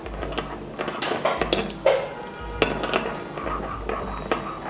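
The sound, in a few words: stirring sugar into hot water for sugar syrup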